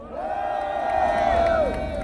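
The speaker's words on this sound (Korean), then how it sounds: "여러분 큰 응원 함성 부탁드립니다." A crowd at a political press conference gives a short, sustained cheer, voices joined in one drawn-out shout that holds steady and then drops off.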